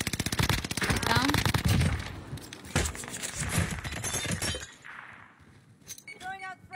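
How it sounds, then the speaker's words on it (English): Rapid bursts of gunfire in a shooter video game, a dense clatter of shots with breaking-glass crunches, loud and up front in the first half while a player talks over it, then fading to quieter sounds. "Kid on the mountain just shooting at me, bro."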